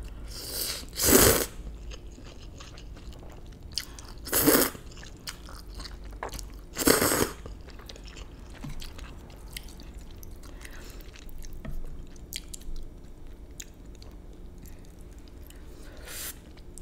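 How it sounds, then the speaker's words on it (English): Someone eats Mama Tom Yum creamy spicy noodles with chili oil, making three loud, close, wet slurps spaced a few seconds apart, followed by quieter chewing and small squishes. "These noodles are so easy to slurp."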